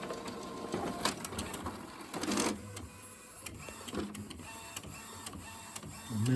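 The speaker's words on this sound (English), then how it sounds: "So let's just very quickly set up a print nozzle test just so you can see it working." An Epson WF inkjet printer runs a nozzle test print with the cover open, its print head and paper feed producing quiet mechanical whirring, clicks and brief louder bursts of movement, with no talking.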